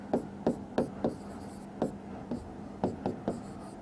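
A pen scratching out a maths calculation for a Rajasthan civil-service test solution, in repeated short strokes at an uneven rhythm, close and clear over a steady background hum.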